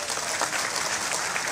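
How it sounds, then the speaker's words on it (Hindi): Dense, loud crowd applause welcoming a minister at a political gathering, a continuous wash of clapping with voices mixed underneath throughout. "जोरदार तालियों से स्वागत करिए।"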